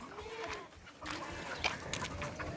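Desi chickens in a village near Taif make scattered clucks and short calls at mid distance over outdoor background noise, with a faint voice murmuring.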